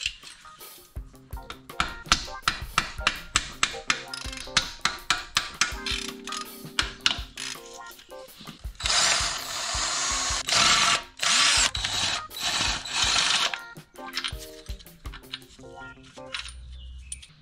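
Bolts come off the oil pan of a 1999 VW Golf MK4 with a cracked pan, using a 16 mm socket: close, rapid metallic ratchet clicks and taps, then a sustained buzzing, grinding burst before the clicking returns, with no talking.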